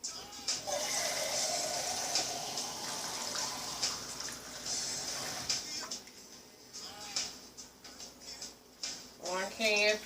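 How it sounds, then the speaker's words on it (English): Water runs from a tap into an empty coconut milk can in a kitchen, a steady rushing pour that fades toward the end, with a few clinks and a voice joining briefly. "Then I'm going to take my can and fill it up with water."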